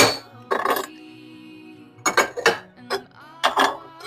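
Handmade ceramic platters and small spoon dishes knocked and set down against each other, several bright clinks and clatters in short bursts separated by quiet pauses, close and fairly loud.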